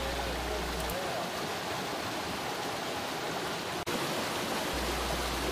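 Gravity dredge pulling water and gravel up through its hose from a riverbed hole, a steady broadband rushing roar with a brief dropout near the end, no talk.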